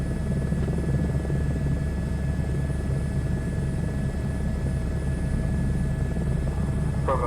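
Rescue helicopter in Microsoft Flight Simulator 2024 lifting off, its steady close rotor thump and turbine whine holding constant and loud throughout with no talk.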